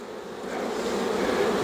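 Honeybees drone steadily in a dense, continuous buzz during a horizontal hive inspection, the hum swelling slightly louder as the colony stays close and busy.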